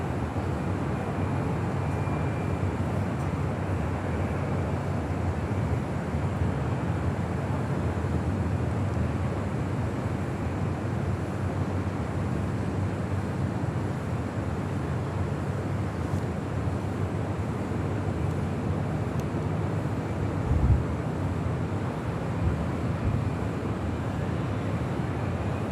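A United Airlines Boeing 787-9 Dreamliner taxis at Los Angeles International Airport. It gives a constant, even low rumble of jet engines at a distance, with some wind noise and no talk.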